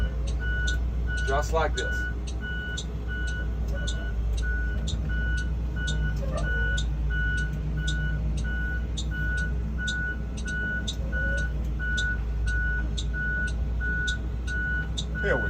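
A Class B school bus sounds its high reversing warning beeps in a steady rhythm while backing up, over a low engine rumble, with someone talking briefly.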